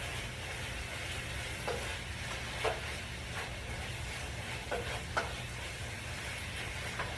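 A chicken and broccoli stir fry crackles softly in a pan, a quiet continuous sizzle broken by a few light scrapes of the spoon as it is stirred.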